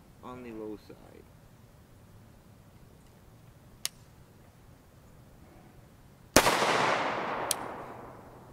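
A single loud, sharp 9mm pistol shot fired in an ammunition test of Swedish M39B rounds, with a long decaying outdoor tail after it and a few quiet ticks and a brief voice before it.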